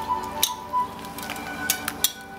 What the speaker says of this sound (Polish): Dodajemy do tego nasze ugotowane krewetki. Wszystko razem mieszamy.